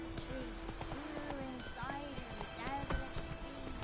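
A horse in The Witcher 3 video game trots along with steady clip-clopping hooves and occasional whinnies, heard close and clear throughout.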